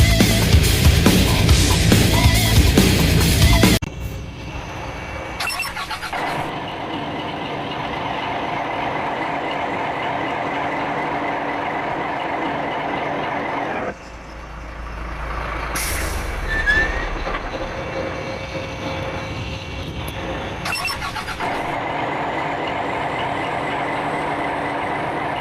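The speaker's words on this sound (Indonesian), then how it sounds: "Kita mulai dari bunyi suara starter engine nya." A Luragung Jaya Meteor bus engine, with a snoring, tinny exhaust, starts with a loud roaring burst lasting about four seconds. It then settles into a steady heavy idle rumble, broken by a few short hissing air bursts, with no talk.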